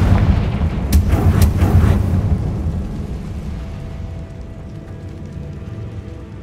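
Loud, booming blasts from a Confringo spell in the video game Hogwarts Legacy, a couple of sharp cracks over a heavy rumbling roar that slowly fades into a lingering low tail.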